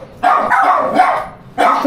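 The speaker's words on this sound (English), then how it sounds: "the dogs are gonna bark" Dogs bark in two loud bursts, one running from near the start through the middle and another near the end, inside a modern home in Eastwood City, Philippines.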